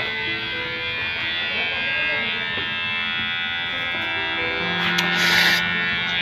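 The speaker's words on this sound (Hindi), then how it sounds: "ट्रिमर यूज करिए।" An electric trimmer dry-shaves a man's beard in a barber shop, a steady close mechanical buzz with a sustained tone that shifts slightly as it moves, with a brief brighter hiss near the end.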